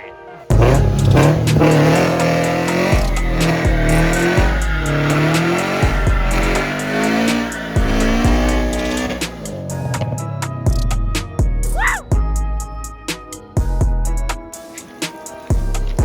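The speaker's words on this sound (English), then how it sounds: "I didn't mean to do a burnout like that" A WRX being worked on after an engine build spins its tires in an unintended burnout, giving a loud, sustained tire squeal over a revving engine that stays close and continuous for most of the stretch.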